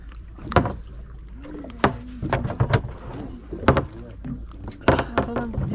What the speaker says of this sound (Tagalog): Iikot ang bangka.